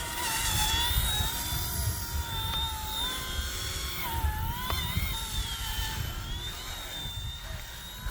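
A small RC ERA 186C PRO remote-control helicopter flies forward at full throttle, giving off a continuous high-pitched motor whine with rising and falling tones, close and steady throughout.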